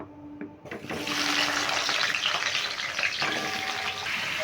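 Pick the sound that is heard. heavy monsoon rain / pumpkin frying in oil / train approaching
pumpkin frying in oil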